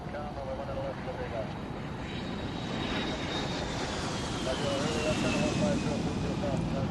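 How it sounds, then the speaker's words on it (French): A Janet airline passenger jet takes off toward Groom Lake, its engine roar a steady, fairly distant drone with a slowly falling whine, with a voice speaking over it. "un autre vol Jeannette décolle en direction de Groom Lake"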